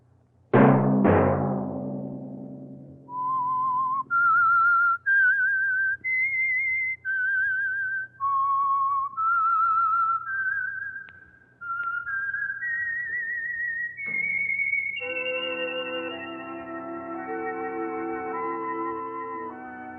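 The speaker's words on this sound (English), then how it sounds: "Let that whistle be your signal for the Signal Oil program, The Whistler" The Whistler radio show's signature whistle: a lone, clear melody of separate whistled notes rising and falling, followed by a held tone with a full musical accompaniment swelling in beneath it.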